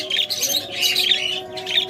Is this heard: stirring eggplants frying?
no